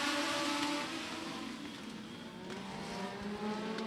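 Race cars pull away at the start of a heat race at Beckley Motor Speedway, a distant, fairly faint engine roar holding steady across the short stretch with no nearby voices.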